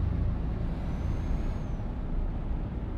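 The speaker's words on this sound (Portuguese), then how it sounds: "quando você estiver jogando, ó, o som do freio, ó." Modified truck air brake sound in Euro Truck Simulator 2, heard as a steady broadband hiss that holds for about three seconds at even loudness, with no talking.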